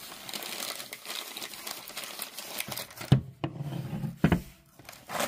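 Wrapping paper crinkles and tears as wrapped auction finds are opened, a busy run of close rustling and crumpling with a few sharper crackles and rips near the end.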